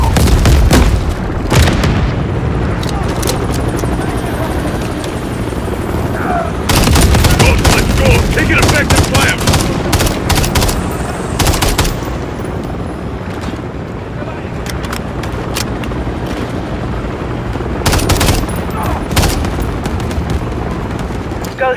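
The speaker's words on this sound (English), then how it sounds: "We're taking fire." Heavy gunfire and booming explosions from the Call of Duty Modern Warfare III video game, loud continuous fusillades broken by sharp blasts, with voices shouting over the combat.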